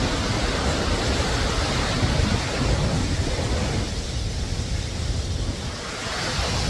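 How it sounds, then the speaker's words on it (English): A waterfall at Hellesylt in the Norwegian fjords gives a dense, unbroken roar of rushing water, loud and close, with no other sounds. "we're right by the waterfall"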